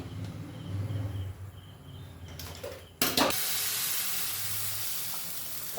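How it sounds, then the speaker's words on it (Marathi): Quiet kitchen hum gives way to a sudden, steady hiss of oil sizzling on a hot griddle, continuing loudly to the end. "तवा आता तापलेला आहे आणि त्यावर मी आता थोडंसं तेल घालून घेणार आहे"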